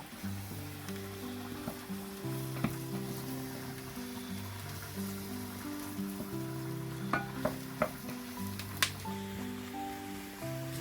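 Mushrooms sizzling as they cook down in a pan for risotto, a steady crackling fry with scattered sharp pops and occasional stirring, while music plays quietly underneath.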